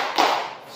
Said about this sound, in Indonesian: Ya, tepuk salut.